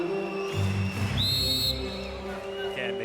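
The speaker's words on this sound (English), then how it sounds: "they boo and they hiss and they whistle" A crowd at a men's volleyball semifinal between Japan and Poland whistles in a large arena, several sharp whistles rising above steady crowd noise and babble.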